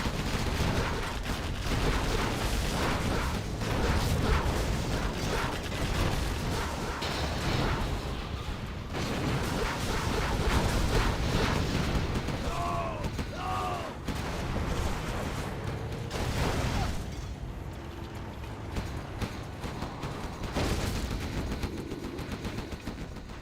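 MiG jets open fire in a real-time strategy match, a dense, continuous clatter of machine-gun shots and booms that runs almost without a break and sits under faint commentary.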